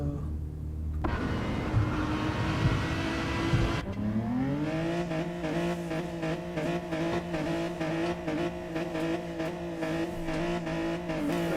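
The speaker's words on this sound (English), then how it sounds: "I quite like the sound of the Genesis." The Genesis race car engine in a racing video game revs and accelerates hard, a loud sustained tone climbing in pitch, while tire noise and another car's drone sit beneath it and no one talks.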